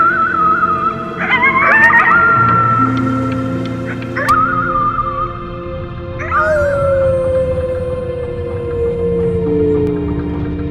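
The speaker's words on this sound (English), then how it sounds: "You howled at the moon, at the top of your lungs." A howl at the moon in the video game Before Your Eyes: a wavering, voice-like tone rising and bending in several drawn-out calls over a steady low musical bed, with a final long falling cry.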